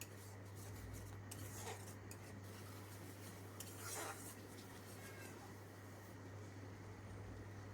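Turmeric and spices being stirred in oil in a pan, with quiet clinks and scrapes of a utensil against the metal over a faint, steady hum, low and close.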